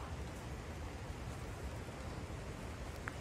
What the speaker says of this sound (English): Come for a walk in the woods in the rain because it's summertime.